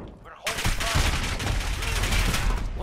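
Gunfire from the Call of Duty Modern Warfare video game during a Grazna Raid domination match: a dense, sustained burst of rapid shots and booms that fills the clip loudly after a short quiet opening.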